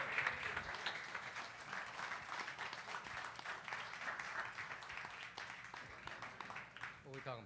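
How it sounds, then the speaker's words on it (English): An audience at a Latino Key Network panel applauds steadily for several seconds, a dense wash of clapping at moderate distance with a crowd murmur and some voices mixed underneath. "Let's give him a round of applause."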